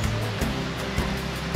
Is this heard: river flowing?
yes